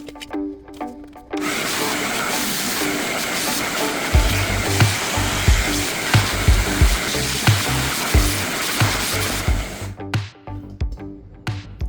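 A vacuum cleaner sucks up drywall debris in a home, its steady loud broadband roar running continuously for most of the stretch, with knocks and rattles of debris bumping through the hose and thumps near the end.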